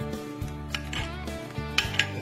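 A utensil scrapes and clinks against a bowl while chile guerito salsa is stirred, soft repeated strokes with small metallic taps, close and steady over a low background hum.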